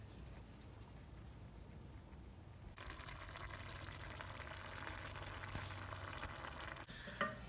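Onions cooking down and caramelizing in a pot for onion soup make a quiet, steady sizzle that grows fuller partway through, with a faint clink near the end, close and low in level.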